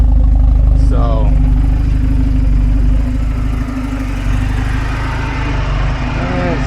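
A 1975 Volvo 245 wagon with a 16-valve turbo engine swap idling roughly, a loud steady low rumble close by with slight unevenness, while someone talks briefly over it.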